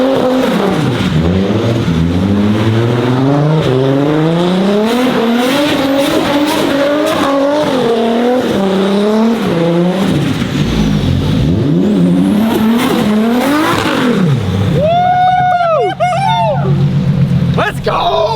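A Nissan 240 drifts around in Seattle, its engine revving hard in repeated rising and falling surges close by, ending with sharp, wavering tire squeal.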